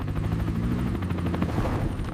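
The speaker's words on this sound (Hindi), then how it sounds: "हेलीकॉप्टर तैयार करो," A helicopter flies close by, its rotor thudding in a steady low throb that fills the whole stretch without a break.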